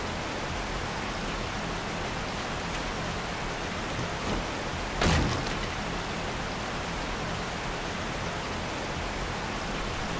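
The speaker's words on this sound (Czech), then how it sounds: "Už by mohlo přestat pršet, je to docela otravný." Steady rain falling in the video game 7 Days to Die, a constant even hiss throughout with one brief louder crack about midway.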